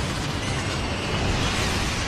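Grenade blasts in the video game Vanquish, a loud, dense rumbling roar of explosions filling the whole moment up close, with no speech over it.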